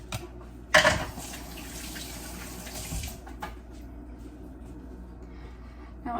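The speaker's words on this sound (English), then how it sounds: "Now let me put everything in the sink that I used." Tap water runs into a kitchen sink over used baking dishes from making pumpkin bread, a steady moderate rush at close range that opens with a brief louder splash and continues alone without talk.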